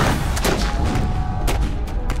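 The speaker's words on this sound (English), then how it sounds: "the heavy iron cannon, and some thousands of small arms joined in and made the ground shake under our feet" Dense, loud volley of musket fire and booming heavy iron cannon shots overlapping in a rapid, continuous barrage with heavy low rumble, from a Battle of New Orleans reenactment.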